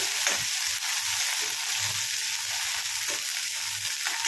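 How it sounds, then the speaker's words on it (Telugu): Green chillies fry steadily in hot oil, a continuous close, loud sizzle with no voices. "ఈ పచ్చిమిర్చిని అయితే మంచిగా ఫ్రై చేసుకోండి."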